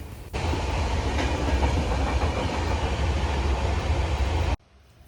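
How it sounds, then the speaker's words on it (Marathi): A train passes on the adjacent track in a steady, loud rumble with rhythmic clatter of wheels, starting abruptly and cutting off sharply near the end, heard from inside a Goa Sampark Kranti express slowed at a crossing. "एक ट्रेन पास होते त्या साईडने."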